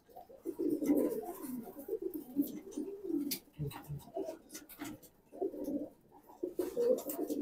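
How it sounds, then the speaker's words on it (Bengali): Hammer pigeons, a male and female, coo in low repeated bursts close by with short pauses between phrases, no talking over them. "এই যে এটা একটা হ্যামার কবুতর, হ্যাঁ মাদি।"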